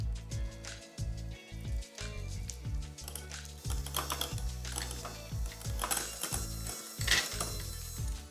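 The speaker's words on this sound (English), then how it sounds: "And then just beat this together with a hand mixer on low speed." Hand mixer on low speed beating sour cream and cream cheese for a baked crab dip, a close, steady mechanical whir with rhythmic clicking and ratcheting pulses running throughout.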